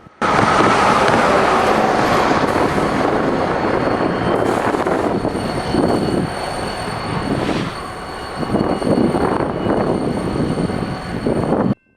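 BNSF freight locomotive 1902 shoving cars back while building a manifest train in a Galesburg, Illinois yard in winter, with a steady loud engine roar, rolling wheel noise and high squeals throughout.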